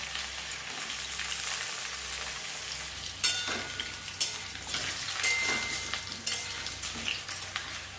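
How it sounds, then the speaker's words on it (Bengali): Large pieces of potato fry in hot oil until lightly browned, with a continuous close sizzle and a few sharper clinks and scrapes of stirring in the later seconds. "হালকা লাল লাল করে ভেজে নেব আলুগুলো।"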